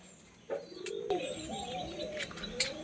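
Pakistani pigeons coo softly in low, rolling calls, with a few faint chirps and small clicks around them, fairly close and quiet.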